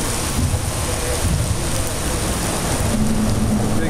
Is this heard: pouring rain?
yes